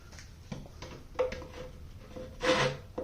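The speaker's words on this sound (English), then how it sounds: "Get my rasp here." A wood rasp filing the wood of a cigar box mandocello during the build, heard as a few short rough scraping strokes with brief pauses between them, close and fairly quiet.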